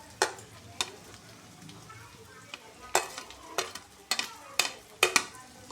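Shredded cabbage stir-frying with chilli in a pan for vegetable manchurian, a steady sizzle broken by sharp scraping stirs that come in quick bursts, close and clear.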